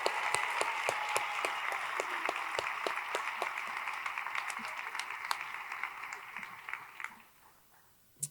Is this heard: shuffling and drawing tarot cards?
no